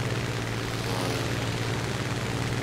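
Propeller plane engine in the combat flight game War Thunder, a steady droning hum with a strong low tone that holds loud and unbroken throughout, with no talk.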